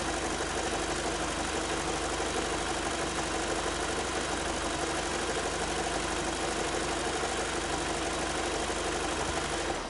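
A VW Passat B6 engine idles after an oil service, running with a steady, even hum throughout and no voices.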